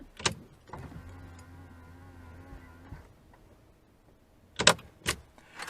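Electric side mirrors on a 2013 Porsche Cayenne GTS fold out with a steady motor whir lasting about two seconds, bracketed by soft clicks, then sharper clicks and taps close by in a quiet setting.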